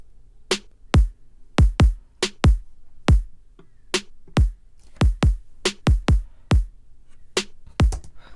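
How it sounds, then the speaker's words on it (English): A sparse electronic kick and snare beat for a remake plays alone, with punchy, clean hits in an even pattern and silence between the strikes. "We got kick and a snare, sounds like this."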